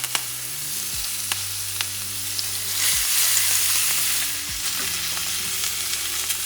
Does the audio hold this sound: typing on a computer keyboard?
no